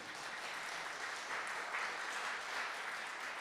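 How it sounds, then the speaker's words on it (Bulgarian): Sustained audience applause fills a conference hall as an education and science minister is invited onstage at a spinoff and Horizon Europe info day, steady and dense throughout with no pauses. "Големи аплодисменти за него"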